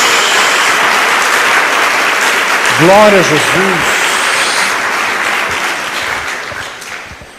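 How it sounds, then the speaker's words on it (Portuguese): A church congregation applauds in a sustained, loud wash of clapping that slowly fades toward the end, while someone speaks a short exclamation over it. "Dê uma salva de palmas a Jesus"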